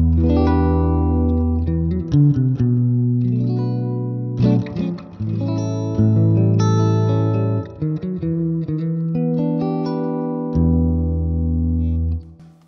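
Simple reggae rhythm chords on electric guitar run through a BOSS RE-2 Space Echo pedal on mode 5, choppy strummed stabs trailed by warm tape-style repeats and wash, played alone and up close.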